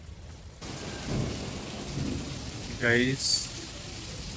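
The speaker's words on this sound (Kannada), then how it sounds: "ಮಳೆಯ ರೌದ್ರಾವತಾರ." Heavy rain hisses steadily in a downpour, with low rumbles of thunder rolling in the background, while a person speaks briefly over it near the end.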